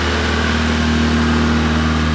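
A 1995 Honda Civic engine running at a raised idle on old gasoline, a steady, close, continuous hum with a strong low drone and no speech.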